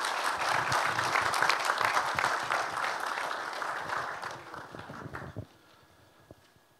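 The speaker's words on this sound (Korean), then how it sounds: "우리 신부님도 박수 주시기 바랍니다" Applause from a congregation at a church dedication and founding service, a sustained broadband patter of many hands that fades out near the end, leaving quiet room tone.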